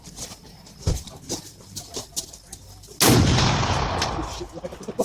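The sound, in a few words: toy pistol firing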